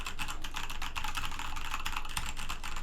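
Rapid, steady keystrokes on a Corsair K70 Rapidfire keyboard fitted with Cherry MX Speed switches, a close, fairly soft clatter of dense, evenly spaced clicks throughout, with no voices.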